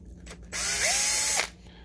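A power screwdriver whirs for about a second, removing screws from the heatsink assembly of a BenQ SX930 DLP projector on a bench, with a steady high buzz, a rising then falling motor pitch, and brief faint handling noise before and after.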